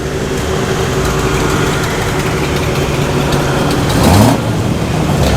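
A Vauxhall Viva HB at an evening classic car meet idles loudly with a steady rumble, then blips its throttle in a short rev before settling back to idle.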